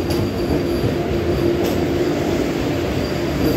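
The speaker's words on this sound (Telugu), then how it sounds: "అదిగోండి వచ్చేసింది వందే భారత్" A 16-coach Vande Bharat express from Kacheguda to Yesvantpur pulls into a station platform with a loud, steady rumble and wheel hiss and a faint high whine, heard close by with no one talking.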